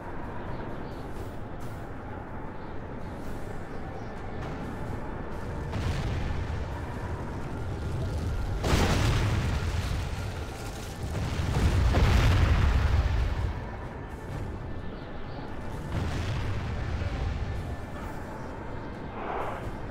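Troops open fire in a historical battle strategy game with English forces, producing repeated booming volleys and blasts in several bursts, the heaviest around the middle, over continuous rumbling battle ambience.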